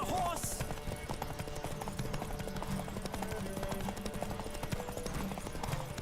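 Horse hooves galloping in The Witcher 3, a steady rapid clip-clop that runs the whole way through under game music and effects, with a voice talking over it at times.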